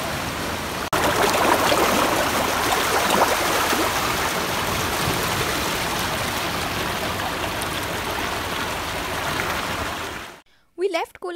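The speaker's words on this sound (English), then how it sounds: "So this is like वो lagoon में से water आ रहा है." Water flows in from a lagoon at Cola beach in South Goa, a continuous close rushing and trickling stream that holds steady for about ten seconds before cutting off abruptly near the end.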